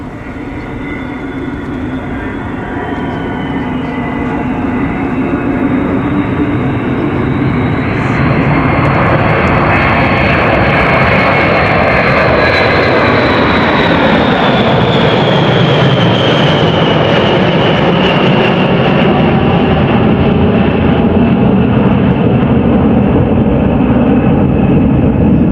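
Aircraft engine roaring loud and close as the plane comes back around for a pass at an air show, a dense sustained drone that swells and shifts in pitch over about twenty-five seconds.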